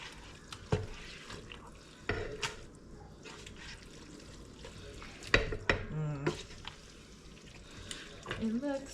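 Pasta sauce thickened with starchy pasta water, stirred in a pan with intermittent wet scraping and sloshing, a few louder spoon knocks, and soft background noise; no talking.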